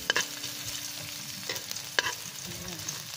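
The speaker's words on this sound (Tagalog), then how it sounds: "Magigisa ako ng bawang at sibuyas." Garlic and onion sautéing in a pan, a soft ongoing sizzle broken by a few sharp clinks of a utensil stirring against the pan, close by and without speech.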